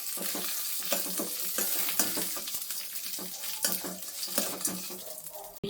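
Grated coconut and spices roast in a pan for Melukote puliyogare gojju, giving a soft dry sizzle with repeated rhythmic stirring scrapes throughout, fairly quiet and with no talking.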